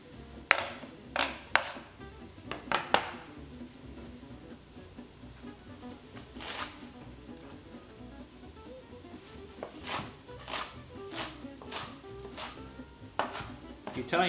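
A knife chops Italian parsley finely on a board for cioppino, a run of sharp, irregular taps that cluster in quick bursts and then thin out, with a few quieter knocks between.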